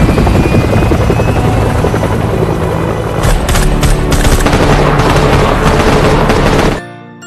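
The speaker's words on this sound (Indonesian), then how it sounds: "helikopter datang dan menyelamatkan mereka dari tempat wabah itu menyebar." A helicopter arrives for a rescue during a viral outbreak in the film Alive, its rotor roaring loud and steady throughout. Sharp rapid thuds join in partway through, and the noise cuts off abruptly at the end.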